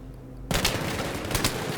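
Sustained automatic gunfire from a gun in Battlefield 3, bursting in abruptly after a quiet moment and continuing as a loud, dense rattle of rapid shots.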